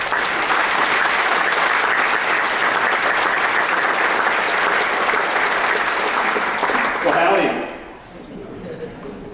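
Audience applause welcoming Senator Johnson to the podium at a university presidential installation ceremony, a dense, steady crowd clapping for about seven seconds before tapering off into a quieter hall.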